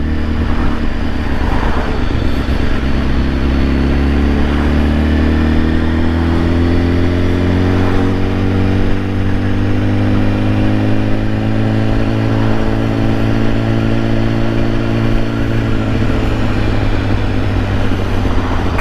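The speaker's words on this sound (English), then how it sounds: "Can you commute on a 200 horsepower bike?" BMW HP4 motorcycle ridden on a commute, its engine droning loud and close with a steady rise and fall in pitch as it accelerates and shifts, wind rush underneath, no talking.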